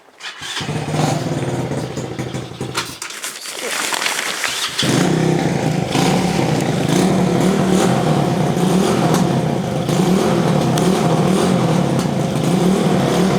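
Chinese 125cc quad engine starting up after a brief pause, then idling and running steadily loud and close with a rough, throbbing drone, alone without talk.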